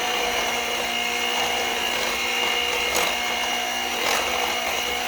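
An electric hand mixer whirs steadily through rhubarb cake batter as buttermilk is blended in, a continuous mid-level motor hum with a couple of brief louder scraping surges and no talking.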